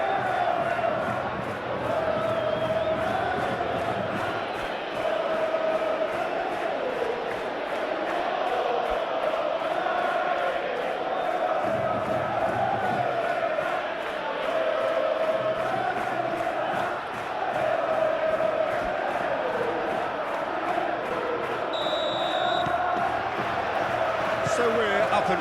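A simulated football crowd in a La Liga match between Atletico Madrid and Athletic Bilbao roars and chants continuously, a dense stadium swell that rises and dips with occasional whistles.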